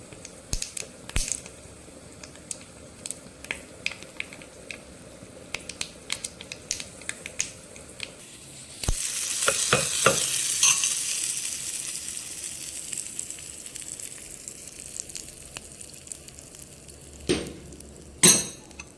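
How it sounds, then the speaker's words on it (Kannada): Oil tempering with mustard seeds and a red chilli for basale leaf tambuli: a burst of sizzling and popping crackle rises midway and fades, amid earlier clinks, taps and scattered kitchen snaps, with no talking. "ಇದರ ಒಗ್ಗರಣೆ ಹಾಕುವ"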